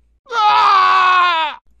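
A single drawn-out, strained vocal cry for the Emperor's death in a Lego Star Wars video game, rising and then falling as it fades, about a second and a half long, loud and alone with no talk.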